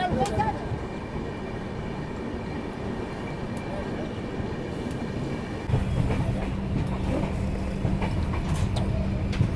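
Poorva SF Express train rolling along the tracks, a steady close rumble from inside the carriage with rhythmic wheel clatter that grows louder partway through, and someone talking over it.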